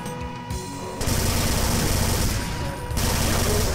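A chaingunner enemy in Brutal Doom fires long rapid bursts of loud continuous machine-gun fire, pausing briefly between volleys.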